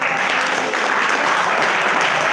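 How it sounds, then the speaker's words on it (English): Camp audience applauding, a dense, steady wash of many hands clapping together for the full stretch, fairly close and without pause, no voices on top. "Okay, clap for Abhinav."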